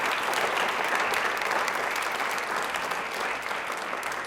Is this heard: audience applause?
yes